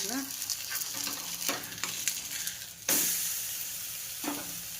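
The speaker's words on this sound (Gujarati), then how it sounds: "પછી ફરતું આપણે તેલ નાખી દેવાનું, ધીમા તાપે હવે આપણે એને ચડવા દઈએ" Pearl millet flour chamchamiya frying in oil on a low flame, with a steady close sizzle, a sudden louder hiss as oil is added, and occasional stirring scrapes.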